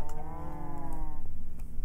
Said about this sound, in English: So the cows are here.